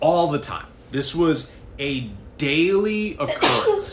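A sneeze cuts into talk during a live mental health conversation. It is loud and close and comes among steady speech.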